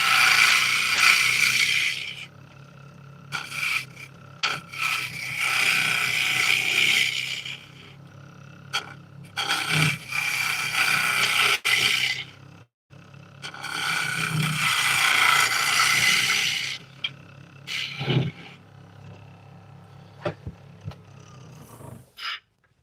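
A bowl gouge cuts walnut and butternut on a spinning lathe. Loud bursts of harsh, hissing shaving noise last a few seconds each, separated by quieter pauses where the lathe keeps running.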